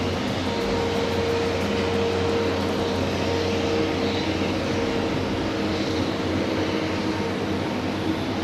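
A jet airliner on the Haneda to Itami route roars at Haneda in a steady, broad rumble with a faint tonal whine, holding evenly throughout with no voices.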